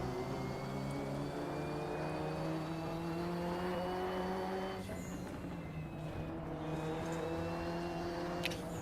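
Race cars in the RaceRoom racing game at Suzuka, engine drones holding steady pitch tones that shift around the midpoint, continuous and fairly loud with no talking.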